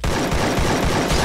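Rapid gunfire in the Free Fire battle royale game, a loud continuous burst of automatic shots filling the whole moment with no pause.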